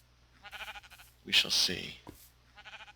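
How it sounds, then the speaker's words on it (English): Minecraft sheep bleating twice in close succession, loud and near, with a voice talking before and after the calls. "Maybe it's just sheep clomping."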